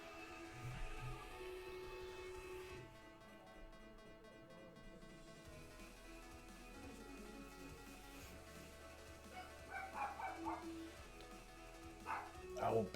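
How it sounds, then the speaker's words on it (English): A dog woofs now and then in the background while people talk over a gaming session, the barks moderately distant and partly buried under the voices. "I hear Biscuit over there woofing"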